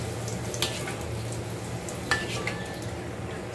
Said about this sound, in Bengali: আমার তেলটা গরম হয়ে গেছে, তো তাই লুচিটা দিয়ে দিচ্ছি